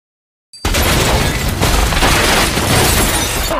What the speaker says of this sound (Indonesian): terjadi ledakan